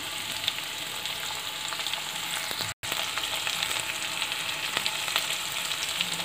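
Sliced onion sautéing in oil in a pan, a steady close sizzle with faint crackles running throughout, briefly cut by a split-second dropout midway; no voices.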